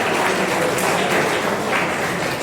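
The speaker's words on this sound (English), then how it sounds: "Give a round of applause." An audience in a problem-solving and ideation session claps together in a steady, dense round of applause that holds at an even level for the full two and a half seconds.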